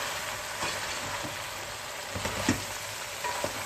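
Eggplant for a traditional salted Turkish dish fries in a pan with a steady, close hiss, while a few light scrapes and taps mark it being stirred.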